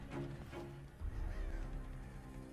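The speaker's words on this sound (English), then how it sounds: "Some crows crowing." Crows caw in a Dead by Daylight horror trailer, a few rough calls heard faintly beneath a dark, rumbling ambient soundtrack.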